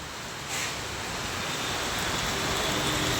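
Steady rain falls outdoors in Becharaji, a dense even hiss with no talk over it, soaking a parked bike.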